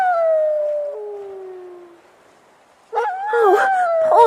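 A dog howls in long, drawn-out wavering notes, first one sustained howl fading away, then after a brief pause a louder burst of overlapping howls and yelps close by.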